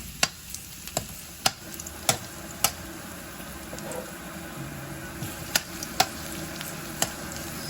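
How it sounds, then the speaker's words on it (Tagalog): Plenty of garlic fries and browns in a pan for pork salpicao with mushrooms, a faint close sizzle broken by sharp, scattered pops and ticks. "Hulog na po natin ang bawang. Kailangan i-brown natin yan."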